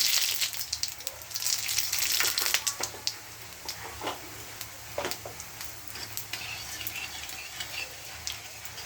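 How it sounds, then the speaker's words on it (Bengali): Bay leaf, dried chilli and radhuni crackle and sizzle in hot oil, a steady frying hiss with scattered pops and a louder burst early on. "ফোড়নে দিয়ে দিলাম তেজপাতা, লঙ্কা দেয় না, জাস্ট আমি একটা দিলাম।"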